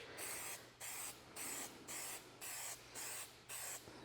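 A Plasti Dip aerosol spray can hisses in seven even bursts of about a third of a second each, close and fairly quiet, with short pauses between passes and no talking.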